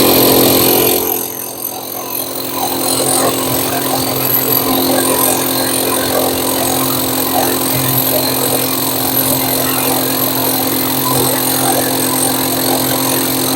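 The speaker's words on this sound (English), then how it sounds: "now I'm going to be drilling with our new 1 3/4 inch rotary hammer with a 1 1/4 inch drill bit" A 1 3/4 inch rotary hammer drills with a 1 1/4 inch bit at a tool expo, a loud, steady, close mechanical roar that holds almost unbroken after a brief dip near the start.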